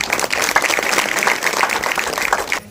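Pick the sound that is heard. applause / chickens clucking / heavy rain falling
applause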